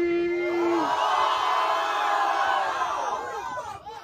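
Crowd at a rap battle between two MCs in a student battle event, cheering, whooping and shouting loudly and continuously, a dense roar of many voices that fades slightly near the end.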